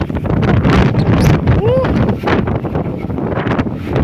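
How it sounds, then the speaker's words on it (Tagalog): Strong wind roars and buffets the microphone in heavy, continuous gusts at Malico, Pangasinan, with a brief whistling tone partway through. "napakalakas ng hangin dito."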